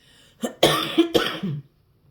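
A few harsh, close coughs in quick succession, loud against an otherwise quiet background with no speech.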